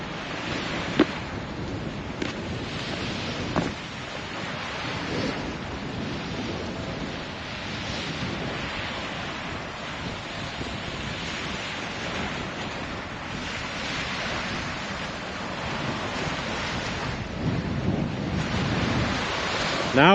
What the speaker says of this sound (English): Now we're gonna get that wind noise.